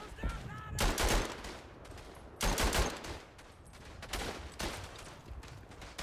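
Gunfire in the World War I shooter Verdun, with several loud broadband bursts of shots spaced a second or two apart, some heavier volleys and lighter pops trailing off, over a low rumbling battlefield background.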